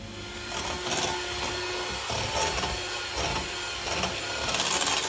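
An electric mixer beats thick, dense spiced pumpkin muffin batter with a continuous whirring drone, while the beaters rumble and scrape in a rough, pulsing rhythm through the bowl. The sound is fairly quiet and has no talk over it.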